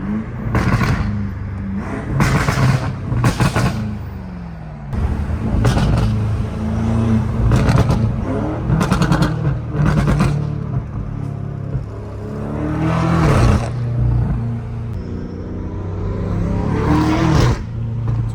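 A BMW M5 F90 Competition with a full titanium exhaust and downpipes revs loudly again and again in sharp bursts, deep rumbling between each throttle blip, close by and without any talk.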